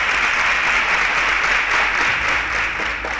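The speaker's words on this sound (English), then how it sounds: "A round of applause for them." Studio audience applause during a quiz competition, loud continuous clapping from a crowd filling the whole moment.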